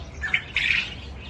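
Parrots on hotel grounds let out a couple of short, harsh squawks, fairly near, over a quiet low background.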